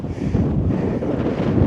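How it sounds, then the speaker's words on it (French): Strong wind on a mountain ridge at the Swiss-French border roars and buffets the microphone in a continuous, loud low rumble, with no one talking. "Il y a pas mal de vent."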